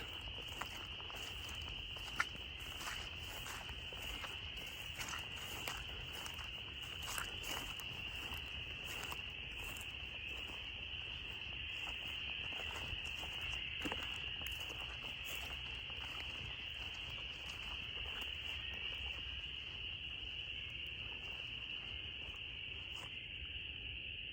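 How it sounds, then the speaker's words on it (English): Frogs croaking in the woods at night, a dense, steady high-pitched chorus that stays level and continuous throughout, with faint scattered rustles and clicks beneath it and no voices. "this sound of these frogs is getting louder and louder"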